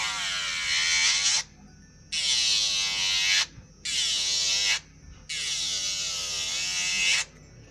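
A Delanie JW-500 electric nail e-file drill, rated to 35,000 rpm, runs at just over quarter power in a steady high whine, cutting out briefly three times before resuming, held hard against the work without stuttering.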